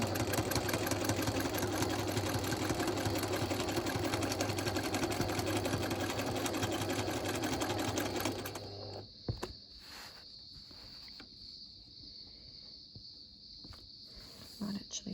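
Sewing machine running continuously during free-motion quilting with a ruler, a steady fast mechanical whir for about eight seconds, then stopping and leaving a quiet room with a high electrical whine and a few faint handling clicks.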